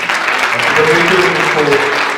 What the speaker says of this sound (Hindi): इसके लिए हम फादर साहब के लिए भी जोरदार तालियां बजाएंगे